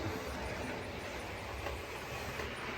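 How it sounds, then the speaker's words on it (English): Model railway trains run along a layout track with a steady, continuous rumble and clickety-clack of wheels over rail joints, close and even throughout with no talking. "This is just an excuse to run some trains"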